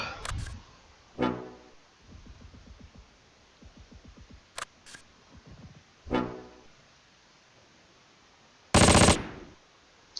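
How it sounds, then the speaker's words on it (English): Bursts of machine gun fire in the war strategy game Close Combat: Last Stand Arnhem, short rapid rattling volleys at moderate distance separated by louder single blasts, with a sharp loud crack near the end. "Oh, that's a machine gun."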